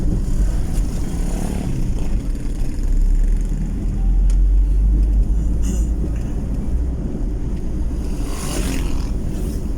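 Provincial road traffic in the mountains of Tubungan, Iloilo, Philippines: a jeep and motorcycles rumble past with low engine drone and passing swells, moderately loud, with no speech.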